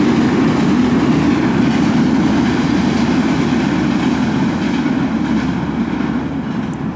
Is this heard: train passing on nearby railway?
yes